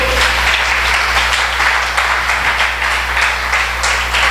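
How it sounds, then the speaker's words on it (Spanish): A church congregation applauds during a Bible question-and-answer service, loud steady clapping in a room, with a low constant hum underneath. "Démosle un aplauso al Señor."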